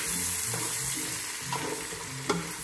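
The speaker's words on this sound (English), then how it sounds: "Next thing, I'm gonna stir it real fast." Jollof ingredients, including tomato, sizzle in a pot while being stirred quickly, a close crackling fry with quick scraping strokes and a sharp clink near the end.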